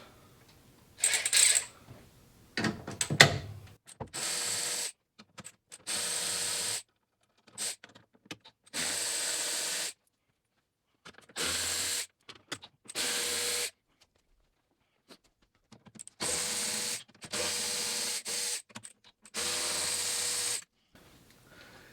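Removing the bolts of a carbon fiber brace on a BMW M3/M4 with a 13mm socket: a fairly quiet series of short whirring and ratcheting bursts, about a second each, separated by silences, with a few clicks at the start.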